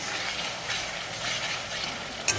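Spices and potatoes fry in mustard oil in a pan, making a steady close sizzling hiss with faint stirring scrapes throughout.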